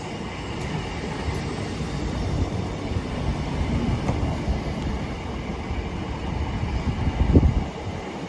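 Scotrail passenger train, units 318266 and 318254, arriving at Blantyre station on the Motherwell to Dalmuir service, heard as a steady broadband rumble and wheel roar with faint rail clatter, swelling slightly near the end.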